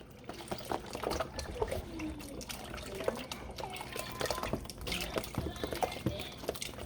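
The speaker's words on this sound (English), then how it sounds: "Now to that, I'm going to add some bone broth." Bone broth being poured into a pot while meal prepping, a soft, continuous trickle and splash of liquid with small clinks, fairly quiet and close.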